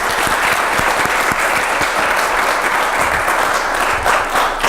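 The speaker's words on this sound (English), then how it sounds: "Give a big round of applause then to Maira for coming here to speak with us." An audience claps at the close of a talk, a loud, sustained burst of dense applause that keeps going steadily from start to finish with no voices above it.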